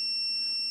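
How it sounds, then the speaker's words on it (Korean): A continuity tester gives a steady, high electronic beep when its probe touches a shorted pin on an electronic part, loud and continuous through the short moment. "1번 핀 삐삐 소리 나죠?"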